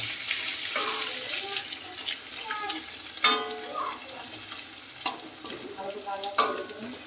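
Ginger-garlic paste frying for a mutton curry: a bright, steady sizzle in the pan with a few sharp stirring knocks, while a voice talks intermittently over it.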